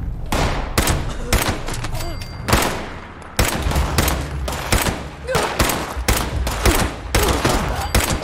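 Rapid bursts of gunfire from a gun in the video game Fallout, loud sharp shots repeating in irregular clusters across the whole stretch, close and dominant with no talk over them.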